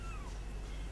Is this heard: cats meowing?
yes